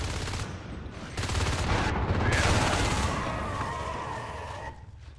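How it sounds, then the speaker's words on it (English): Gunfire in the sci-fi shooter Natural Selection 2 during a competitive match: a loud, sustained, dense volley of rapid shots that swells and then tapers off toward the end. "Very good shots there by Karuyu and Ray, pushing that out"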